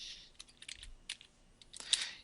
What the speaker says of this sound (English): my typing is going to be probably even slower and more abysmal than it normally is